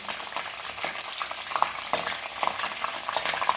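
Onion sizzling in hot oil in a pan where peanuts were just fried, a continuous crackling fry with light spoon stirring throughout, close and without speech.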